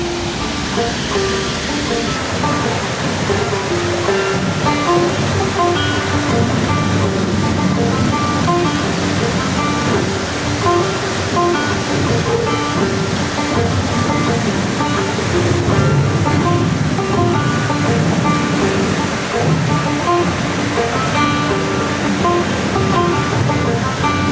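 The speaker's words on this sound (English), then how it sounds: "Listen to the water." Water rushes steadily over the falls at Falls Mill, a historic gristmill with a 32 ft waterwheel in Belvidere, Tennessee, giving a loud, constant broadband roar that never lets up and has no talk over it.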